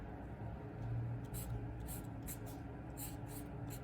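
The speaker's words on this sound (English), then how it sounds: "I'm gonna write Happy Mother's Day." Pen writing "Happy Mother's Day" on a rainbow Mother's Day card, a soft scratchy stroking in short bursts against a steady low room hum, close and quiet.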